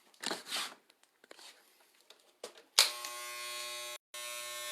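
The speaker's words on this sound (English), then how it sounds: "We're still shaving." An electric shaver buzzes steadily and close for the final two seconds, briefly cutting out, after soft whispery speech and handling noises while shaving.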